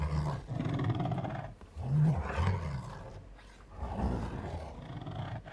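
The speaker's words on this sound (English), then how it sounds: "I'm actually just scratching my nail over the box." Fingernail scratched across a cardboard box to fake a monster growl, giving several rough, roaring bursts up close, each lasting a second or two with short gaps between them.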